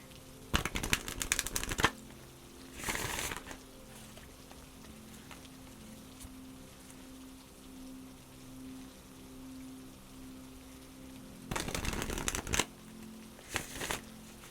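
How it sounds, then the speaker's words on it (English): Oracle cards being shuffled in a quiet, soft-spoken tarot setting: several short, crisp riffling bursts separated by long stretches of near silence with a faint low hum, close up. "Next, we're going to pull some oracle cards."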